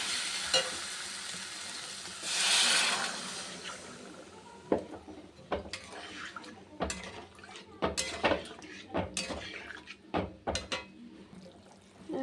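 Water poured into spice masala cooking in a pan for a Bengali fish curry gives a loud hissing burst early on, followed by scraping and clinking of stirring.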